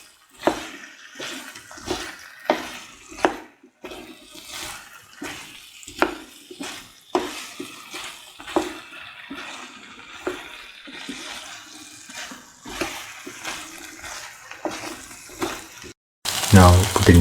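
Eggplant and potato being stir-fried and mixed in a pan with salt, a steady wet sizzle broken by repeated scraping and stirring strokes at an uneven rhythm, with a louder clatter at the very end.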